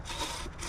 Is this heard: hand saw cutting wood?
yes